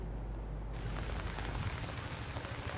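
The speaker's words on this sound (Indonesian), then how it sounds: "Diguyur hujan lebat selama 1 jam lebih Kamis malam" Heavy rain pours steadily for over an hour on a Thursday night at a sports hall in Klungkung, Bali, drumming as a dense, continuous hiss that grows fuller partway through, with no voices.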